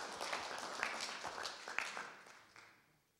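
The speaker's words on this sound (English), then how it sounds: "Let's give them a round of applause." Scattered applause from an audience, dense clapping that gradually thins and fades out over a few seconds.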